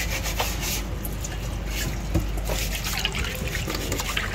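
Pechay greens poured into a strainer give a steady wet rustle and patter of draining water with small drips. It is close and continuous at an even level.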